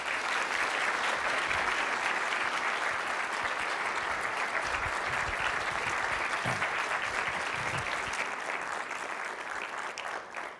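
Audience applause welcoming Professor Peter Singer to the stage for an ethics lecture, dense sustained clapping from a large crowd, holding steady and thinning slightly at the end.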